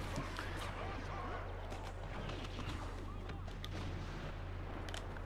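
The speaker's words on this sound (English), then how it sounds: "Let's just start firing at that thing." Rapid blaster fire from the video game Star Wars Battlefront, set during a battle on Bespin, crackles as quiet, dense bursts of shots over a low rumble, with a voice talking faintly beneath.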